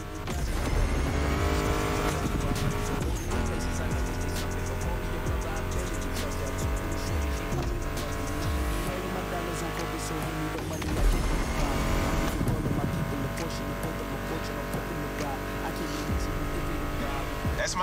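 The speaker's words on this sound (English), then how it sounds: "Meshes well with the sound of the engines" Racing cars in a retro-styled video game, engines droning and revving steadily under a loud music soundtrack, with occasional tire noise throughout.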